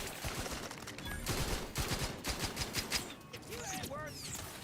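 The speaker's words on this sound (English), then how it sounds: "Machine gun." Rapid machine gun fire in the video game Outer Worlds 2, bursts crackling across the whole stretch with mechanical clatter and a few game sounds near the end.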